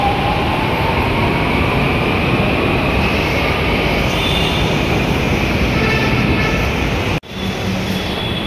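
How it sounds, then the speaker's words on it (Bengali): A Mumbai metro train pulls away from the platform with a steady, loud rumble and whine of rolling wheels and motors that holds for several seconds before cutting off abruptly. "মেট্রো যাচ্ছে গো।"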